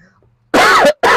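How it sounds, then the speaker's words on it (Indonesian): Two loud, close coughs burst out one after the other from an adult man, following a moment of near silence. "Wah batuknya."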